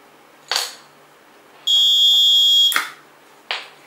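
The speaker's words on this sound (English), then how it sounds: "you can also hear just now that the locking system in the door just beep" Lego and Arduino door lock answering a card tap with a single loud, sustained electronic beep lasting about a second. Sharp clicks and taps come before and after it in an otherwise quiet room.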